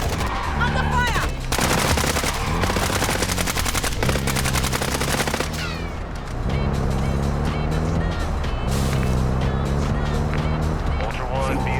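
Dense, loud video-game gunfire with rapid machine-gun bursts and overlapping shots runs almost nonstop, while a voice and other game sounds play alongside the shooting.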